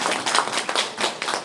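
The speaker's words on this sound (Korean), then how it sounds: "그럼 박수를 치셔야 돼 지금." Brief burst of clapping from a seated audience at a Korean community conference panel, uneven and fairly close, with distinct individual claps rather than a dense roar.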